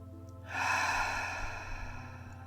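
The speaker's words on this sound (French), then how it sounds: "prendre une grande inspiration par le nez et une grande expire par la bouche" A slow, deep breath drawn in through the nose and released through the mouth during a calm guided meditation, a soft airy whoosh that swells after a brief pause and tapers gently, close and quiet, with no talking.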